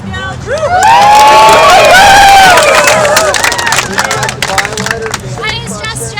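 A large outdoor protest crowd at Occupy Denver in 2011 breaks into loud sustained cheering, whooping and clapping, with high whistles and shouts rising over the applause before it thins into scattered claps and voices.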